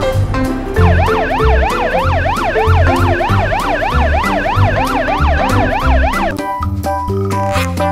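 A toy police patrol car's electronic siren wails in a fast, repeating up-and-down sweep over a steady beat for about six seconds, then switches to a different toy tune of plain tones.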